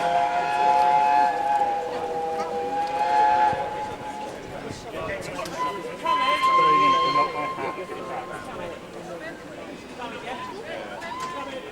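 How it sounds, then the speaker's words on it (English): A steam train approaches at a large railway gathering, with a whistle sounding in sustained tonal blasts over the rumble of the rail, heard at a distance beneath the noise of a crowd and nearby voices. "the train's coming now"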